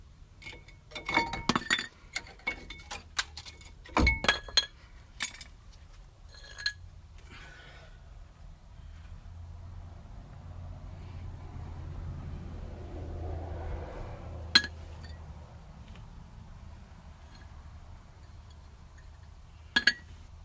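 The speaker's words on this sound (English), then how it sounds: "Let's pop out these old brake pads." Old brake pads pried out of a 2003 Ford F-150 caliper, with a cluster of sharp metallic clinks and clicks early on, then quieter scattered taps over a low background hum.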